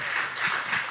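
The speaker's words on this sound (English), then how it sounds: "we got to give Keith a round of applause for actually like walking into the lion's den." A live audience at a political discussion event applauds in a dense, steady burst of clapping throughout the short clip.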